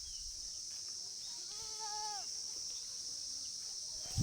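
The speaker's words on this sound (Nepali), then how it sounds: "यो बोका यो छ नि यो बाख्रा चाहिँ बोका लगाउन लिएको अर्कैको हो" A borrowed billy goat at a rural Nepali homestead lets out a single quavering bleat of about one second, at moderate distance, over a steady high insect-like hiss and faint outdoor ambience.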